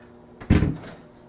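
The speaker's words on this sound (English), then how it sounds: "we'll go to the oven here. We'll shut this door" An oven door swings shut in a home kitchen with a single solid thump and a brief rattle, close and alone against a quiet room.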